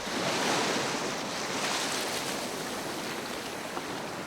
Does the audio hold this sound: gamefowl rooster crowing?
no